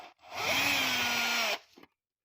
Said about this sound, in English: now we take off the little screw that holds the steering linkages on